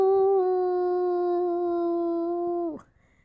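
A person imitates a wolf howl with a sustained steady tone that drops sharply at the end, followed by near silence.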